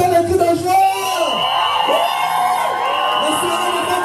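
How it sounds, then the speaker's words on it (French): A crowd at a concert during a religious wedding celebration in Metz cheers, whoops and shouts with joy, loud and close, with voices rising and falling in a dense, sustained roar. "Je veux entendre les cris de joie."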